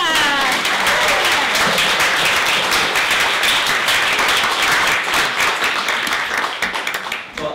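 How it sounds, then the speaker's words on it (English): Sustained applause from an audience at a literary Q&A event, dense steady clapping filling the room for several seconds before tapering off at the end. "Let's give it a round of applause."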